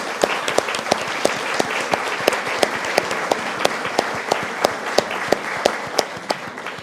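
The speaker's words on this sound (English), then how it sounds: "Can you join me with a round of applause?" Audience at an annual author event applauding, a dense wash of steady clapping with individual sharper claps standing out, sustained and fairly close throughout with no talk over it.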